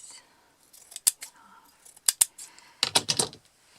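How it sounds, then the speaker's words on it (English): Scissors snipping through fabric scraps, a handful of sharp close cuts and blade clicks in quick irregular bursts, crisp and near in an otherwise quiet room. "I'm gonna cut it like this"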